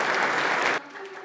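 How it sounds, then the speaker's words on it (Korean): An audience at a baseball rookie draft event claps to welcome the NC Dinos team, a dense, loud burst of applause that cuts off abruptly, leaving quieter room tone and a faint voice. "자, 큰 박수로 환영해 주시면 감사하겠습니다."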